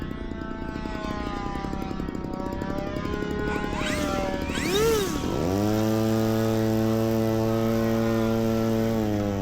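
An ARROWS RC Pioneer model plane's electric propeller whines as the pitch swoops down and up during a touch and go, then settles into a steady loud harmonic drone close by.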